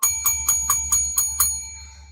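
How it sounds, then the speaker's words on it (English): A bell is struck seven times in quick, even succession, each ring bright and close with a lingering metallic tone that fades out after the last hit. "Bang that bell."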